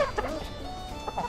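Backyard hens in a coop give a few soft clucks and squawks during morning chores, quiet and brief against a low background.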